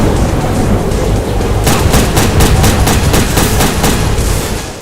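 Rapid gunfire from the video game Headhunter, loud and close, with dense repeated shots bursting in about a third of the way through over a constant noisy game background.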